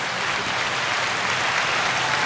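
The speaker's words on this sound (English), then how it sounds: "I love having the clap button when we record in person because the Zoom recorder has that option." A canned applause effect from a Zoom recorder's clap button plays as a dense, even wash of clapping crowd noise, fairly loud and steady from start to finish.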